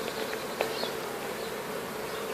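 A honeybee colony buzzes steadily during a hive inspection over open brood comb, a dense continuous hum close to the frames with a few brief louder bees passing near.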